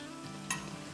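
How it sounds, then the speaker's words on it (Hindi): A spoon stirs dahi bhalle frying in a pan, with a steady low sizzle and two brief sharp scrapes or clinks of metal against the pan. "चले अब थोड़ा सा चम्मच चलाते हैं, ये देखें इस तरह।"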